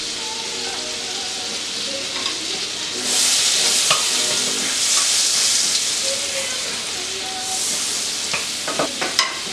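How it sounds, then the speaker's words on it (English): Butter sizzles and hisses in a hot pan as vegetables begin to sauté for Italian sausage and peppers, with a steady frying crackle that swells louder midway, punctuated by stirring clicks and scrapes. "We're going to put probably about a tablespoon of butter, because we're going to start sauteing our vegetables."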